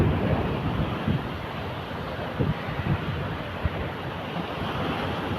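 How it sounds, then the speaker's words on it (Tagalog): Big ocean waves surging against the shore amid strong wind buffeting the microphone, a loud, continuous roar with occasional heavier thumps of breaking surf. "Malaki ng alon."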